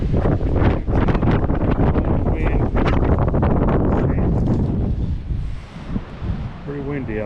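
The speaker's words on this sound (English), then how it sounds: "Pretty windy out today." Strong wind buffeting the microphone in loud, rumbling gusts that ease off near the end, leaving softer rustling.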